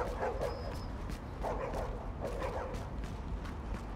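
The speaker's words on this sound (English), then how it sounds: "A lot of dogs." Several dogs barking in The Division video game, short yips and bow-wows repeating at a steady rhythm over a constant low background hum, moderately near, no clear talk over them.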